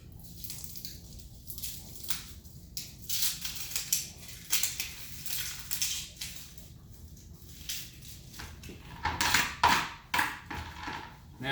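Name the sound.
peeling the skin off an onion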